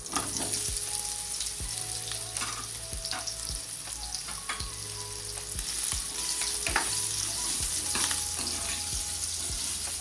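Stuffed kantola (spiny gourd) sizzles and crackles in hot oil with cumin and asafoetida, a steady frying hiss with scattered pops and occasional stirring clinks.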